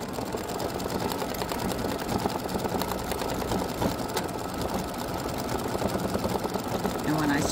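A home embroidery machine stitches a flamingo sunglasses design in a 4x4 hoop. It makes a fast, steady mechanical chatter with an even rhythm that continues without a break, and a voice can be heard faintly in the background.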